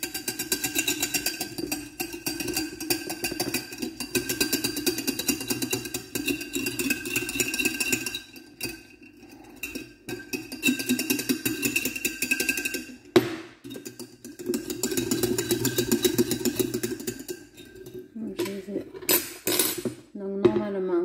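A whisk beats flour into a sauce in a small bowl for a veal blanquette, a fast, steady metallic scraping and clinking against the bowl, close by, with a few short pauses and a looser clatter near the end.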